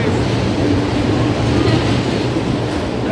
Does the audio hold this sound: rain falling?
no